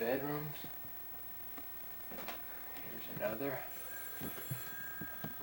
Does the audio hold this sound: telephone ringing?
yes